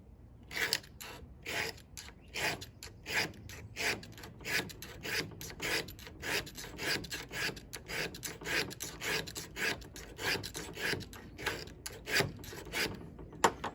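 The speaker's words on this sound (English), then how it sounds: "So get the coarse side and drag back 20 times." The spine of a knife is dragged over and over across the coarse side of a sharpener, giving a quiet, steady series of about twenty rasping strokes, one after another, to prepare the edge for striking sparks.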